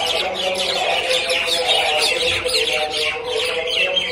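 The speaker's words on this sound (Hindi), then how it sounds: "चिड़ियों की आवाज़ सुने" Many birds chirp and call at once on a village morning, a dense, continuous chatter of overlapping calls at moderate distance, with no talk.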